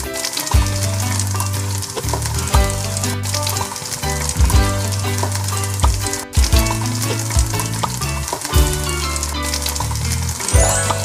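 Bacon sizzles on a griddle in the Cooking Mania breakfast game, a continuous frying hiss over looping background music with tonal chimes and bursts, loud and unbroken, with no talking.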